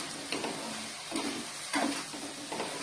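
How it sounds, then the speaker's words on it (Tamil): Sautéed vegetables and sambar chili powder stirred in a hot pan, with soft sizzling and a few scraping stirs at an unhurried rhythm, heard close and alone. "எல்லாத்தையும் நல்லா ஒரு பரட்டி விட்டுக்கோங்க"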